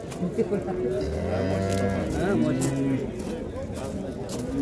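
At a livestock market, a cow lets out a long, low moo at close range, with a second drawn-out call following, over a background of farmyard noise and voices.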